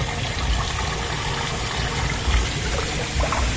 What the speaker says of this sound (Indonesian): Tuh, bunyi sumber mata airnya.